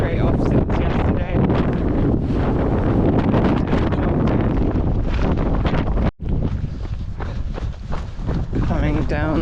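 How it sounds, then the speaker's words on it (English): Strong wind buffets the microphone on an exposed cliff during a long-distance trail run, a loud continuous roar with gusts throughout and a brief drop near the end; speech is tagged but no words come through. "Should get out of the wind really now."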